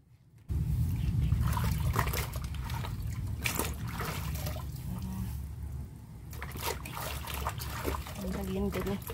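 Running water splashes and trickles steadily as freshly harvested bananas are washed, starting abruptly and continuing at a close, moderate level throughout with light handling noises.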